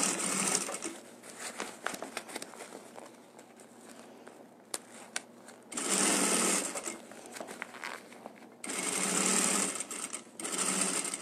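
Sewing machine stitching a small hem section, running in several bursts of fast mechanical whirring separated by pauses with soft clicks and handling of fabric.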